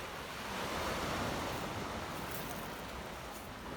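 Steady wash of Black Sea surf rolling onto the shore near Batumi, a continuous broad rush with gentle swells, no voices.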